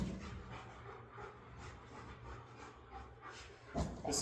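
A working dog pants softly and rhythmically during a training session, faint and close, with a rustle near the end.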